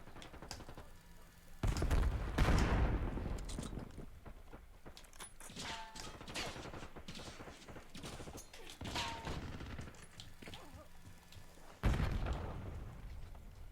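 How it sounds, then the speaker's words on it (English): Gunfire and a frag grenade blast in Call of Duty: Black Ops 6, with dense bursts of shots and booms and a couple of louder heavy impacts rising above a continuous battle din. "Throwing frag."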